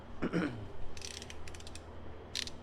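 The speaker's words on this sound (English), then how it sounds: "And I'm going to finish it off with a wrench." Brief bursts of wrench clicking while a distributor hold-down is tightened, a few short ratchet runs over a low background hum.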